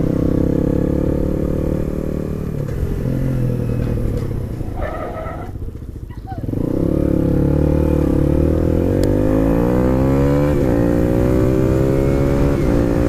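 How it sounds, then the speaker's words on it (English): A motorcycle engine putters along at low revs, loud and close, easing off briefly midway before steadily picking up again. "you'd be surprised how slow you can ride a motorbike"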